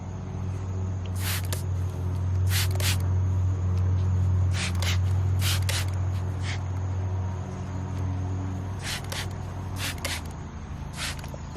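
Short bursts of a handheld water spray bottle misting a lace front wig outdoors in a rainforest, several quick hissing sprays in clusters over a constant low hum and a faint steady high-pitched tone.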